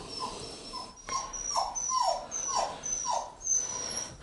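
A puppy whimpers in a woodworking shop, a string of about six short, high, whining cries spaced roughly half a second apart, close and fairly quiet.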